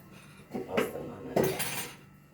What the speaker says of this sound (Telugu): గ్యాస్ వెలిగించి గిన్నె పెట్టేసుకోండి